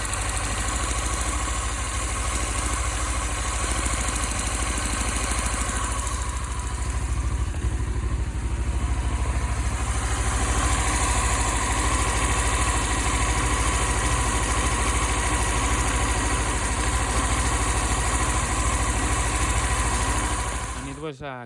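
A motorcycle engine with a carburetor problem idles steadily and closely for a long stretch, a fine rapid clicking running through the rumble, cutting off abruptly at the end.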